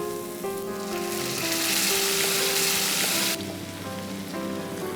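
Loud sizzling and frying hiss from a hot pan, rising sharply as pressure-cooked panchmel dal is added, then settling to a steady crackle.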